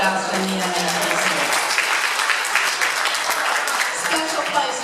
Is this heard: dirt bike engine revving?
no